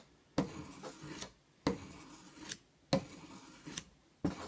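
A knife blade is drawn across a coarse sharpener in long, even rasping strokes, four close scraping passes at a steady rhythm with brief gaps between them.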